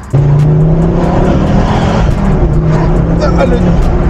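Ford Focus RS Mk2 with its Volvo-sourced five-cylinder engine revving up steadily and loudly, a rising harmonic drone over a continuous engine roar.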